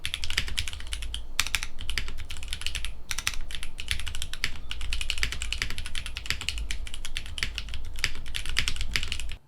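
Typing on a mechanical keyboard fitted with Coley switches in PBT bottom housings gives a dense, fast patter of close clacky keystrokes that continues steadily throughout, over a low background rumble; no voices.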